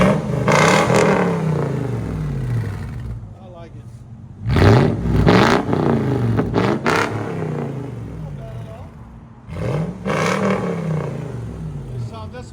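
A 2004 Toyota 4Runner's 4.7L V8 with straight pipes revs hard three times, each loud blip rising and falling back to a rough idle rumble, close to the vehicle.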